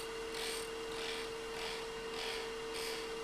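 A lathe gouge cuts a spinning wooden sphere, a steady airy hiss that swells and fades in about five even passes, close and continuous over a faint constant hum.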